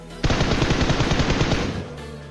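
A single rapid burst of automatic gunfire in PUBG Mobile, loud and close, rattling for about a second and a half before cutting off.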